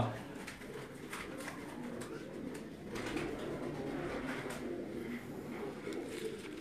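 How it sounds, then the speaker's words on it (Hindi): A Sialkoti pigeon gives soft, low cooing amid light background noise and a few faint voices, steady and fairly quiet throughout. "ये जो चूहा नस्ल का ये कबूतर है सियालकोटी"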